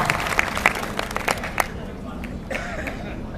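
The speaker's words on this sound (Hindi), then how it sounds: "एक बार अपनी तालियों से पुनः अनुमति दे दीजिए ताकि ये कार्यक्रम विधिवत प्रारंभ हो सके" An audience at a poetry gathering claps in a burst of scattered, fairly close handclaps that thins out and fades after about a second and a half, leaving a soft murmur of room noise.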